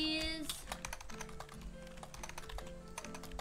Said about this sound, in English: What the heck? What's that? Is Ginny's typing